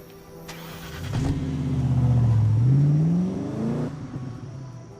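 In the James Bond 007 Blood Stone video game, a car engine starts with a sharp catch, then revs up in a rising, falling and rising whine for a few seconds before settling back to idle, loud and close.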